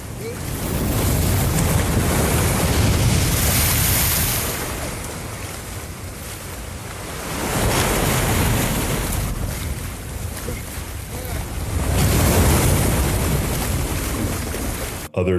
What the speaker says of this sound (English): sometimes it's like the waves are angry